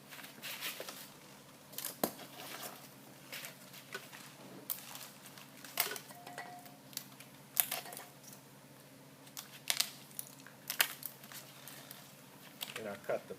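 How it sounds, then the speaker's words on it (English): Scissors snip through a fabric-backed drainage mat for a wall, a series of sharp, quiet cuts scattered across the span beneath someone talking nearby. "I'm cutting the back to leave the fabric"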